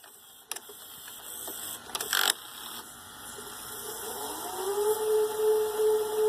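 A Goldstar VCP-106M VHS player rewinding a tape: mechanical clicks and clunks as the mechanism engages, then a motor whine rising steadily in pitch and loudness, close and alone.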